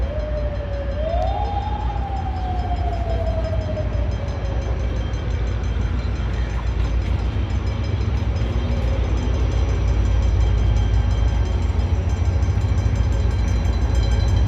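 The Awam Express passenger train rumbles along in Pakistan, a loud continuous roar of wheels and carriages with a long sliding horn tone early on, heard from on board.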